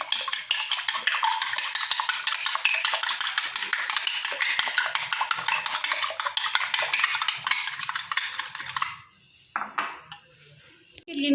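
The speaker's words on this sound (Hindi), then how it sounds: "दो हमने अंडे लिए हैं। इनमें हम थोड़ी सी काली मिर्च पिसी हुई डालेंगे, थोड़ा सा नमक डालेंगे। इसको खूब अच्छे से फेंट लेंगे।" Two eggs seasoned with ground black pepper and salt being whisked briskly in a bowl, a fast, steady rhythmic clatter of utensil against the dish that runs for several seconds, then stops, followed by a few faint knocks.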